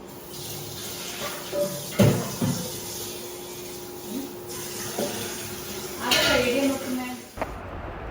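Water runs from a household tap into a vessel for cooking rice, a soft intermittent splashing with a few stronger bursts, fairly close and quiet, with faint voices in the background.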